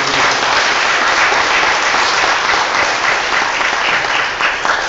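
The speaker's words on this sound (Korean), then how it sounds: "우리 하나님께 영광의 박수 들고" An audience at a church leaders' seminar claps in sustained, dense applause that stays loud and even throughout, with no voice standing out.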